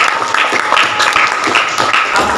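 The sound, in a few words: applause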